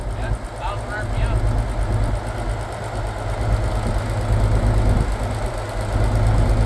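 A five-ton military 6x6 truck, parked for twenty years, idles at a steady low rumble with a slightly sticky throttle. The engine note stays even and close, with a voice speaking briefly near the start.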